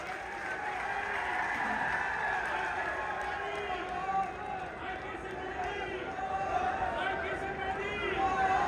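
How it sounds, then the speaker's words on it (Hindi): Crowd at a political rally in Jind clapping steadily and loudly throughout, a dense sustained wash of applause with crowd noise mixed in. "जोरदार तालियां इनके लिए।"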